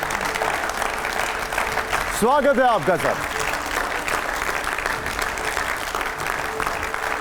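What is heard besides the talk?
loud audience applause welcoming guest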